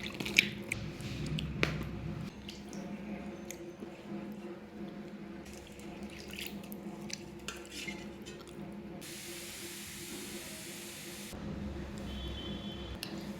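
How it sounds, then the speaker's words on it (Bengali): Chopped vegetables for a Bengali doi shukto are washed in water. Close splashing, dripping and stirring continue throughout, with no voices. "এখন সব সবজিগুলো ভালোভাবে ধুয়ে নেব।"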